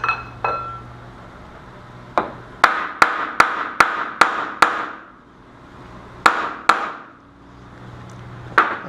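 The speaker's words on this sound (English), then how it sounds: "take the hammer and tap it on this side to level it back out" A hammer taps the outer race of a SuperATV rear wheel bearing to level it: sharp, close metallic strikes in a quick run of about seven, then a few more spaced hits.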